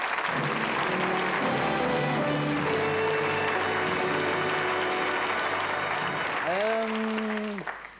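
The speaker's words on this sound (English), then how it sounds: "give them a big round of applause as they go over to the other seats" A 1980s television studio audience applauds loudly in a dense, sustained wash of clapping, with a brief musical sting near the end.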